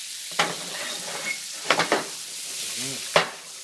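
Thai food stir-fried in a pan, giving a steady sizzle with several sharp bursts of scraping and stirring and a brief clink of utensils, loud and close with no talk.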